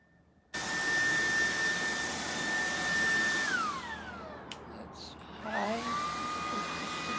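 Dreametech T10 cordless vacuum cleaner switching on with a sudden loud whine, running steadily, then its motor pitch drops and rises again as the suction changes, close and loud.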